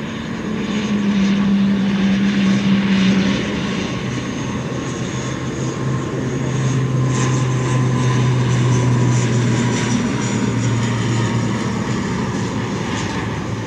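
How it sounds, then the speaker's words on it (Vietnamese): An ATR 72-500 turboprop landing at Tan Son Nhat airport gives off a loud, steady propeller drone with sustained tonal hums that swell and ease over several seconds, with no voices. "mời mọi người chiêm ngưỡng hạ cánh của chiếc ATR72500 này"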